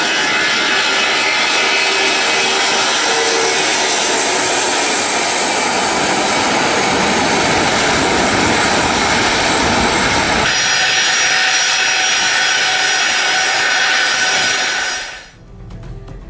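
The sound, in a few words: Russian doomsday plane aircraft engines, landing in Tehran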